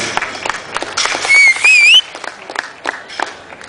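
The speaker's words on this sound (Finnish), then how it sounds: "Ja aplodit näille nuorille moukarilupauksille." A stadium crowd at a Finnish athletics championship claps for young hammer throwers, scattered sharp claps mixed with a brief rising whistle, fairly close and loud in short bursts.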